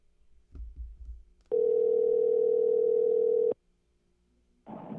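A telephone dial tone plays while a caller is being dialled back, a steady electronic hum lasting about two seconds after a few soft handset clicks, then a second tone begins, close and with no talk.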